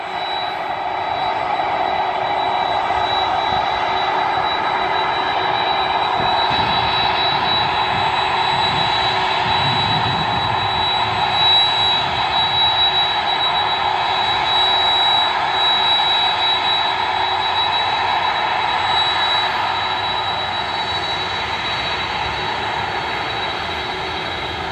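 A Boeing 767 jet engine drones loudly and steadily, with a thin, piercing high-pitched whine sustained throughout the roar.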